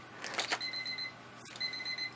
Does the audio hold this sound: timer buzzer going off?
yes